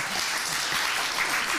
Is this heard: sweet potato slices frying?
no